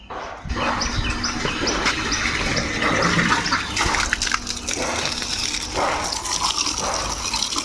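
Water gushes and splashes steadily against a KTM Duke 390 motorcycle at close range while it is washed, a loud continuous spray with birds chirping faintly in the background.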